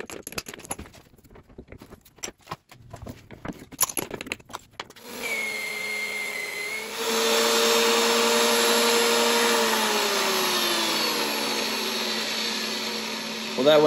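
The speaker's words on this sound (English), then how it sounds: "try to machine down all the shanks to the exact same size" Steel clamp shanks for a welding table fixture are machined down to one size. A quieter clattering opens, then a loud, steady whine of the cutting tool runs continuously, with a high tone that shifts partway through.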